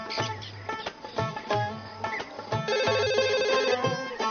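A telephone rings in repeated bursts of trilling electronic tones, clear and close, with no one talking over it.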